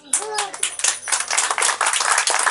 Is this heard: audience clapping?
yes